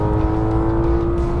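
Porsche 911 GT3 RS, a 500 hp naturally aspirated flat-six, pulling hard under throttle on a wet track, with a steady loud engine drone and strong harmonics held throughout the short burst, with no talk.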